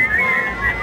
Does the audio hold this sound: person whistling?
yes